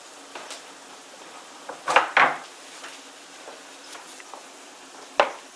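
A metal spatula scrapes across a casserole pan of hashbrown and beef bake in a few short, harsh strokes. The two loudest scrapes come close together, with a lighter one later over quiet kitchen background.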